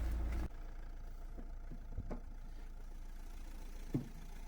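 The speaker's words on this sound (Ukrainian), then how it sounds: "Двигун працює рівненько" A 2013 Renault Grand Scenic 1.6 diesel engine of 130 hp idles with a low, steady, quiet hum, heard close under the open hood, with a few faint knocks and clicks.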